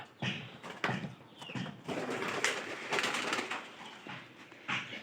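Domestic pigeons coo in a backyard loft where chicks are being raised, giving soft repeated throaty calls in several close bursts over a steady rustling background.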